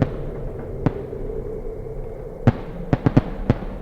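Titanium being ground for a spark test, a low grinding hum under a scatter of sharp crackling pops as particles burst, a few isolated then a quick cluster near the end.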